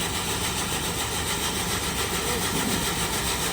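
A tractor-driven maize cleaning machine runs with a steady, dense mechanical roar and engine drone, loud and constant throughout.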